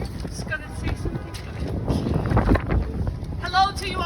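Wind gusting through a very windy indoor corridor at a crowded gathering, a steady rushing roar with buffeting bursts heard beneath a man addressing the group.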